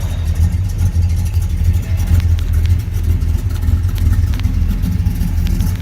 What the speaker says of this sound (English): the car's got a nice sound to it, nothing obnoxious, just a nice little rumble to it